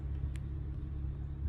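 A Lincoln Aviator idles after a remote start, a steady low engine rumble heard alone and fairly quiet over the short span.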